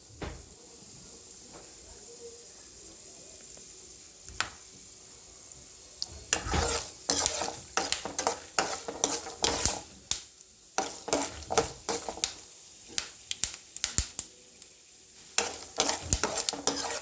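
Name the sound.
frying chana dal and urad dal in oil until golden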